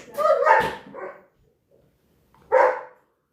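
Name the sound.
dog barking and whimpering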